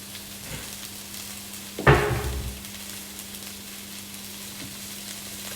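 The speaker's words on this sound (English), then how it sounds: "It's sizzling away." Stir fry sizzling in a pan as a couple of tablespoons of water go in, a sudden loud burst of hissing and spitting that fades over about half a second into a low steady background.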